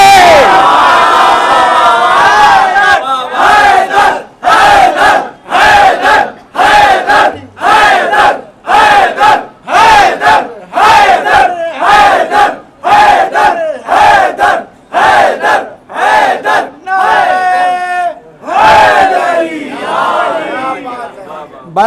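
A large crowd at a Muharram majlis shouts religious slogans in loud unison, bursts of massed voices repeating in a regular call-and-response rhythm with short gaps between each chant, close and forceful throughout.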